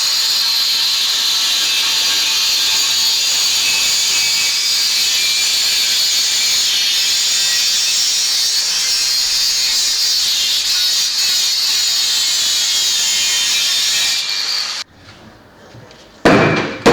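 Cutting roll cage tubing for a VW Mk1 racecar, a loud, steady, harsh high-pitched metal-cutting rasp that runs for about fourteen seconds, then cuts off abruptly, leaving a short quiet gap before a final burst.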